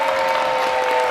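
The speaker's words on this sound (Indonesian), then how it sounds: "tepuk tangan juga dong" A studio audience on the Family 100 game show applauds a contestant family, producing a short, loud burst of dense clapping mixed with a sustained musical tone.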